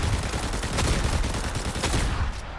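A mythic weapon firing in Fortnite, a dense, loud barrage of shots packed closely together over a couple of seconds.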